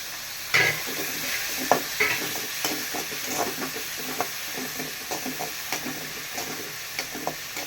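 Ginger garlic paste frying for a mutton curry, a steady sizzling hiss with soft stirring scrapes and small spatters throughout, close and moderately loud.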